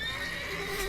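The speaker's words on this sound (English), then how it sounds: "It's an enemy horse." A horse whinnies in The Witcher 3, an enemy bandit-affiliated mount, its tonal neigh sustained through the short moment over steady in-game ambience.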